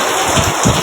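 Heavy rain pours in a dense, loud, continuous wash, with no voices.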